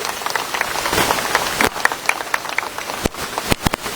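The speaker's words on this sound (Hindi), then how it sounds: "आप अपने लिए एक बार जोरदार तालियां बजाइए" Audience applause at a Jain community gathering in Nagpur, a crowd clapping in a dense patter that builds then thins into scattered sharp claps, with no talk over it.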